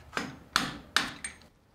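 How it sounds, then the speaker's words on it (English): Four sharp metallic hammer strikes on a chisel, spaced at a steady pace and close by, as a rear shock absorber's end plate is worked loose gradually from each side; no talk. "Next, I'll take a hammer and chisel and remove this end plate here."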